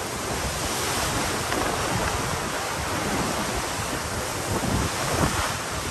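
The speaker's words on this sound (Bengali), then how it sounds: "তো ঢেউ এত উঁচু হচ্ছে যে 2 তলা নিচের পানি ছিটকায় আমাদের এই যে ডেকে বা আমাদের এই পজিশনে এসে পড়ছে অনেক সময়।" High sea waves crash and spray up onto a ship's deck two storeys above the water. A dense, continuous roar of surf and wind fills the whole stretch with no letup.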